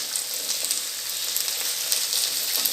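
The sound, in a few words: onion added to frying capsicum and potatoes, sizzling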